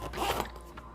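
A zipper on a leather car seat cover is pulled along in one quick, close rasping stroke, with a slight catch partway through and a short tail of scraping at the end.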